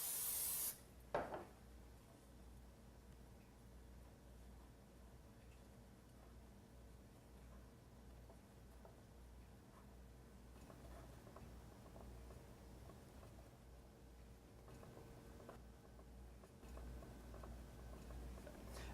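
Cooking spray hits bread slices pressed into muffin tins for egg tarts: one short, bright hissing burst at the very start, followed by a long stretch of quiet with faint handling noises.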